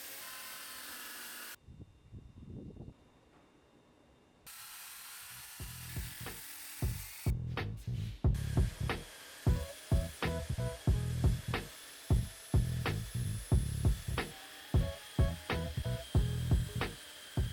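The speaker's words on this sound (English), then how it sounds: "I sanded the tabletop, both the top and bottom sides, with 80 grit sandpaper" A wooden dining tabletop is sanded by hand with 80 grit sandpaper, producing rhythmic back-and-forth rasping strokes, close and repeated many times after a brief quieter pause, with no talk.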